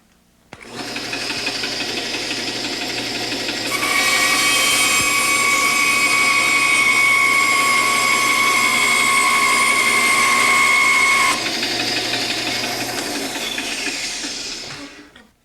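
A Shopsmith power tool spins up and cuts the sides off a wooden box blank: a loud, steady motor whine that rises to a sharper, harsher tone during the cut, then drops back before spinning down.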